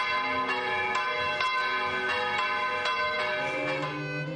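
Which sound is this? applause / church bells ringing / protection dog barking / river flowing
church bells ringing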